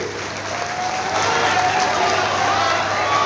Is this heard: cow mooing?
no